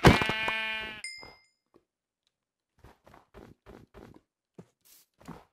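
A Minecraft sheep bleats once at the start, a loud harmonic cry ringing briefly, followed by a soft chime and then a string of quiet blocky footstep-like thuds.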